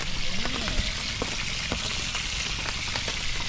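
Steady, crackling sizzle of food frying in a hot pan, continuous and fairly loud, with faint pops scattered throughout and no talking.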